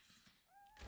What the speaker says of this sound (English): Kitty is in here, that's why you hear Kitty.